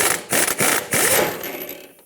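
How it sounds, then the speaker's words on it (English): Pneumatic impact gun fitted with a 24mm socket driving off the outer tie rod nut on a 2012-2020 Ford Focus, giving three loud, close rattling bursts separated by brief pauses before trailing away; no talking. "I'm going to take my 24mm socket with my air gun and try to drive this off."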